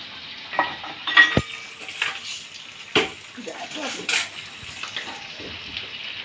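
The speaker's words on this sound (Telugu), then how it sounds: "ఇప్పుడు నూనె పోసుకుందాం" Oil going into a pan for mutton biryani, with a low sizzling, stirring texture and a few sharp clinks of utensils against metal at home, all fairly close, with no one speaking.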